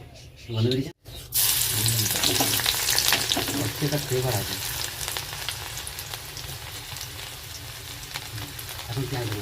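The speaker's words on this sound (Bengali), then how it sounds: "এদিকে কড়া গরম বসিয়ে দিয়েছি শাক ভাজবো" Leafy greens frying in a hot karai give a loud, steady hiss and crackle that runs nearly unbroken after a brief pause near the start, with faint low stirring knocks underneath.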